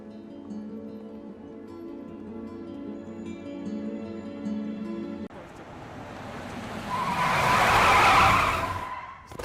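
A car brakes hard and skids to a stop, a rising rush of tire noise that swells to a peak near the end, following a stretch of music.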